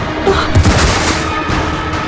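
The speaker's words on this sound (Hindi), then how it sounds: "गोली चला दी।" A gunshot fired during a tense confrontation in a Hindi CID police TV drama, a loud boom cutting through a dense, noisy mix and fading quickly.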